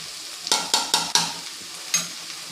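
Onion frying in coconut oil for a banana stem kootu, heard as a run of four quick spatula strokes in a sizzling pan, then a pause and one more stroke, close and clear without speech.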